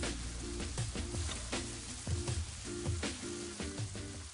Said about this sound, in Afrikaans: en braai dit saam met die sampioene liggies tot die botter begin bruin raak.